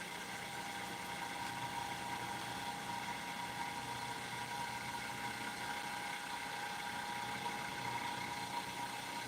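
A small homemade pulse motor spins at about 1,800 RPM, giving a steady, faint mechanical whir with a constant tonal hum and no talk.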